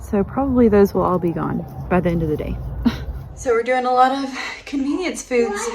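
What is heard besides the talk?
No distinct noise like a dog, phone or traffic.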